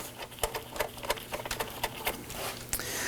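A bolt is threaded by hand into the top radiator support of a 2018-2024 Toyota Camry 2.5L, a quick series of faint ticking, ratcheting clicks close up over a low background hum.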